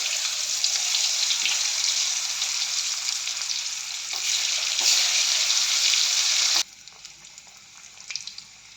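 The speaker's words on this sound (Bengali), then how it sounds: "তেলে ভেজে নিচ্ছি আমরা" Potatoes sizzle steadily in hot oil in a wok, a loud, dense hiss lasting several seconds before cutting off abruptly to a faint background with a few light clinks.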